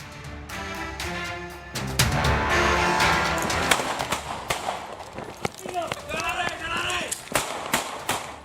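Police warning shots ring out in a housing complex, several sharp cracks scattered irregularly among shouting, running, and street commotion, with voices talking throughout.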